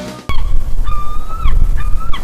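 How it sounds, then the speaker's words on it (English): A loud gull cries out in long, sustained calls, one after another, close by over a low rumbling wind. "The sound of a seagull."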